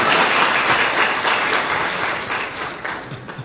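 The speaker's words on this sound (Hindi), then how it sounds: "इसमें तो ताली बजा दीजिए आप लोग" Audience applause at a public event in Uttarakhand, a dense steady clapping from a crowd that holds loud throughout and tapers slightly toward the end.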